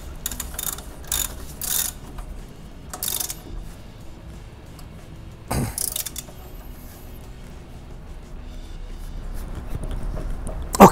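A ratchet with a long 17 mm socket tightens a front shock absorber bolt on a Fiat Panda 169, heard as short irregular bursts of clicking near the start and again around the middle, moderately loud against faint workshop background.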